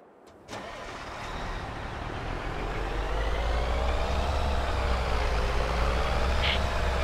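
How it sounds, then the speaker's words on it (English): A dump truck engine in Farming Simulator 22 starts with a brief crank, then settles into a steady, loud diesel rumble that slowly builds and holds, with no talking. "And then we'll return the dump truck after we dump."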